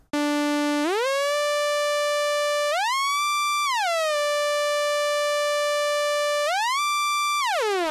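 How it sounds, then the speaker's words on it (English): Omnisphere default synth patch with glide and no effects, playing a clean sustained tone whose notes slide smoothly up and down between pitches, loud and alone throughout. "it's like a default patch of Omnisphere. It's like the basic thing you start with in Omnisphere, and the glide is selected, so the notes glide to each other."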